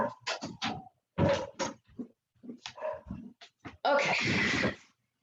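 Several dogs barking and whimpering in short, loud bursts from behind a nearby door in a house, ending in a longer, harsher run of barks.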